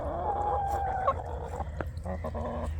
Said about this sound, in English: the chickens in their little play run